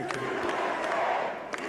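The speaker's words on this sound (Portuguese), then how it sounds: "O público grita USA, USA," A big crowd at Trump's victory speech chants "USA" in rhythmic, roaring waves. The voices are massed and somewhat distant, layered over steady crowd noise.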